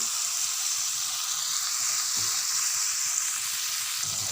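Tomatoes with salt and turmeric sauté in hot oil in a wok, giving a steady, dense sizzle that carries on evenly throughout with no talk.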